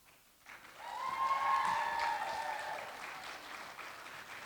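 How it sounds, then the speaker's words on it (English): A pageant audience applauds the Director of the Year, a moderately distant swell of many clapping hands that builds quickly and holds steady, with a faint voice carrying through the roomy hall. "You can keep applauding."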